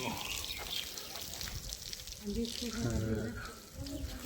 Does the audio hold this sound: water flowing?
yes